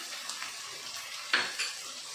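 A spoon stirs green chilli, peas, carrots and beans together in a pan for veg fried rice, quiet scraping and soft sizzle with two sharper clinks of metal against the pan.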